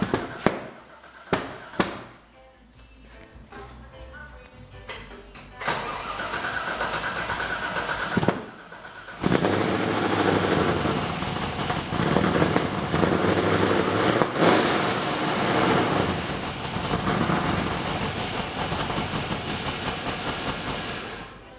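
Nissan 240SX with a dual 3-inch exhaust, muffled centre exits and outer cutouts, fires up after a few sharp pops and settles into a loud, raspy idle that rumbles on steadily at close range.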